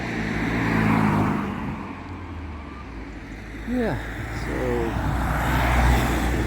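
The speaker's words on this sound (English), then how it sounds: "so traffic" Road traffic in Stenum, Germany, with a vehicle droning past and then fading, heard outdoors at moderate distance while a person talks briefly and other voices are faint.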